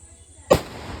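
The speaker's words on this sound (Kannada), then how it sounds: "4 ಪಟಾಕಿ ಬಿಟ್ಟೆ ಗೈಸ್, ಸಾಕಂತ ಅನಿಸ್ತೊಟ್ಟು." A single firecracker goes off with one sharp, close bang midway through, followed by a brief fizzing tail over quiet background.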